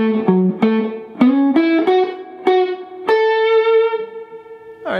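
Slow electric guitar lick, played through effects with light distortion: a sequence of plucked notes climbing step by step, ending on a long sustained ringing note, close and alone with no talk.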